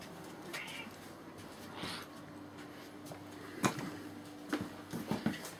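A house cat meows a few times, somewhat faint and intermittent, amid indoor room noise and small clatters while a computer is being moved between cases.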